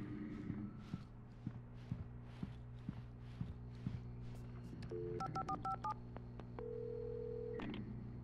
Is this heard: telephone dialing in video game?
yes